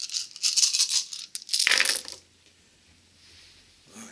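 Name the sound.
dice being rolled in a tabletop wargame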